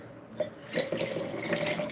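Water runs from a tap into a glass, a steady close splashing stream that starts after a brief quiet moment and keeps flowing without talk.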